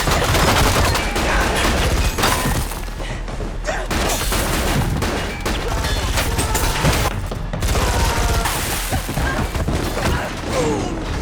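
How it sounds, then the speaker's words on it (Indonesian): Gunfire rings out in a film shootout, dense bursts of shots and booms in rapid, overlapping volleys, loud and close, mixed with clattering mechanical sounds. "Baku tembak terjadi."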